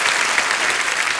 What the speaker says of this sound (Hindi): जोरदार तालियां सुनिधि पाजी के लिए